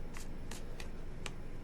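A tarot card deck is shuffled in a few quick, soft riffles spaced apart, faint and close against a quiet background hiss.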